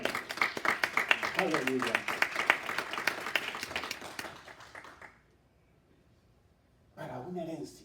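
A church congregation claps for the Lord during a Sunday service, with dense applause running beneath a loud preacher's voice, then breaking off into near silence before speech resumes.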